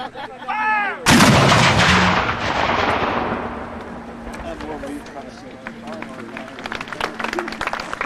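Civil War cannons fire at the Gettysburg battlefield, one huge close boom that rolls and echoes away across open ground. Someone shouts commands just before, and voices and crowd noise follow under the fading rumble.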